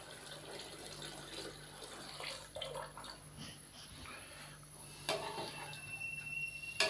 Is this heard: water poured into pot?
yes